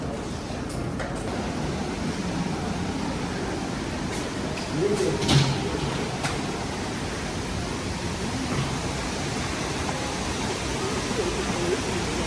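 The Kegon Falls waterfall roars as a dense, continuous rush of falling water, loud and steady throughout with no pauses.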